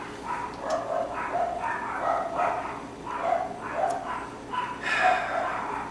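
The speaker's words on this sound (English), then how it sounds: "damn dogs are barking" Several dogs bark repeatedly at a distance, a steady run of yaps and barks with a faint whine now and then.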